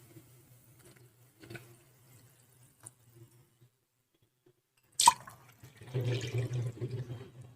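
Quiet kitchen sounds, then a sudden splash as water is poured into a pot of rice for mushroom biryani, continuing as a steady, soft pour.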